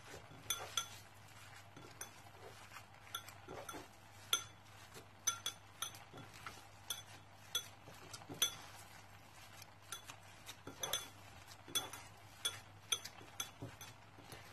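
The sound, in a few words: mixing ingredients in a bowl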